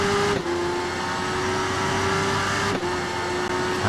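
A Tyco BMW racing motorcycle in Ride 3 screams at high revs in a steady, loud engine drone, with quick dips where gears shift, running alone without voices.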